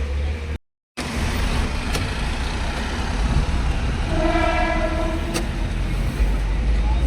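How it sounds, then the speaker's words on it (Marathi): A train runs near Charni Road railway station in Mumbai, heard from a passing vehicle as a steady rumble of traffic and rail noise, with a brief tonal horn-like blast midway. "इकडे चर्नी रोड स्टेशन आहे"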